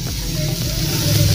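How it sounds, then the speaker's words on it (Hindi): Coarse ginger-garlic paste hits a pan of fried onions with green and red chilies for an okra curry, giving a steady, close, even sizzle with no talking. "अभी इसमें हम अदरक लहसुन का पेस्ट डालेंगे, दरदरा सा"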